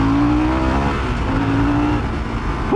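A Harley-Davidson Sportster S with its Revolution Max engine pulls hard under acceleration, a loud, steady engine drone with rising harmonics that holds close and continuous throughout.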